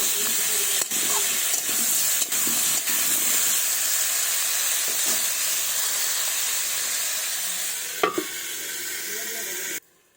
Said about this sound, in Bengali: এই দেখুন বন্ধুরা, আমার ভাজা প্রায় হয়ে গেছে।